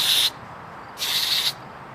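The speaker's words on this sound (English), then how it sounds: "I'll go ahead and give it a good spray." Two short hissing bursts of aerosol cleaner sprayed onto an ignition coil from a Mazda3 engine bay, each loud and close, the first about a quarter second and the second about half a second, with a quiet pause between.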